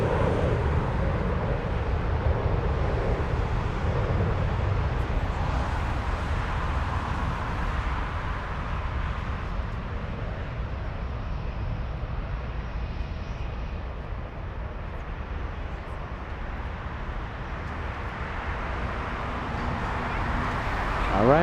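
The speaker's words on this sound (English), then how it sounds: "So this is ANA Flight 224 en route to Tokyo Haneda on a 787-9 Dreamliner" An ANA Boeing 787-9 Dreamliner at Frankfurt airport produces a steady, broad jet-engine roar heard from a distance, with a person talking over it.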